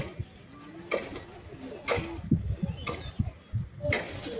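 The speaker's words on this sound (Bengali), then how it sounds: "তোমরা দেখো পায়রাগুলো।" Pigeons coo softly in short repeated calls at a pigeon keeper's house, close by, with occasional faint clicks and shuffling between the calls.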